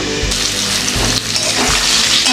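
Potatoes and pointed gourd frying in oil in a pan, a loud close sizzle that runs steadily throughout, with low thuds as the vegetables are stirred, and no talking.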